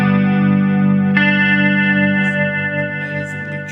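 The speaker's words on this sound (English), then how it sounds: "amazingly cheap and excellent pedal which emulates a Juno. The chorus module that was built into old Juno synths." A cheap pedal emulating the Juno synth chorus module shimmers a sustained, thick synth tone, with a brief shift partway through, then a slowly fading wash with faint sparkling highs.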